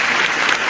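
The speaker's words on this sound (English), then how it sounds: "can we give him a round of applause before we go?" An audience at a live podcast show gives a brief round of applause, heard as a dense, even burst of clapping that is fairly loud throughout.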